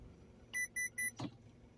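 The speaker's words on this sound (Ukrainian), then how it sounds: "Парктронік електроніки пікають." Parking sensors on a 2016 Mazda CX-5 beep four times in a quick, even rhythm, clear electronic tones heard close inside the car, with a soft thud at the end of the last beep.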